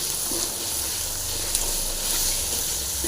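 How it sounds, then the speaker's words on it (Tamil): Masala frying in a pan for a potato and horse gram curry gives a steady, soft sizzling hiss with no talking. "நல்லா ஃப்ரை ஆகட்டும்"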